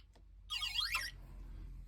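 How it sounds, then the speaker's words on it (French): A Citroën Actia ELIT diagnostic box powering on gives one short, wavering electronic beep chirp, fairly faint against a quiet room background. "Voilà, donc il s'est allumé, il a fait son petit bip."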